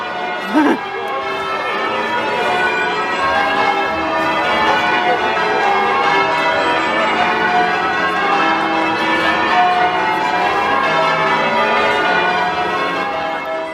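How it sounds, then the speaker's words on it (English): Church bells peal continuously and loudly at Oxford's May Morning celebration, a dense wash of ringing tones layered over crowd chatter throughout. "May morning, it's really loud, there are bells."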